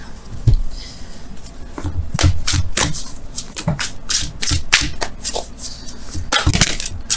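Wisdom of the Oracle cards being shuffled by hand: close, crisp riffling and slapping bursts in an irregular rhythm, with soft rubbing between them.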